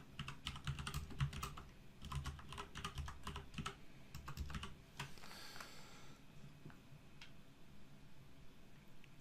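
A computer keyboard is typed on in rapid, quiet clicking bursts for a few seconds, then the keystrokes thin out to a few scattered taps.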